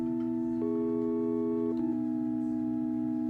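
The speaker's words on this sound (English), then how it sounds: "We could even turn the sine wave up like a perfect fifth" Layered sine waves from a Hydrasynth synthesizer hold a steady low bass tone while a higher sine voice shifts up in pitch and back, pure sustained tones without talk.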